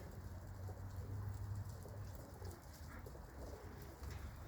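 Pigeons resting outdoors on grass give soft, faint cooing calls over a low, steady background hush, with a few brief, quiet bird sounds standing out near the middle.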